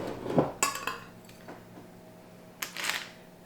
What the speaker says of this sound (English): So I'm just going to continue to put these on my baking sheet.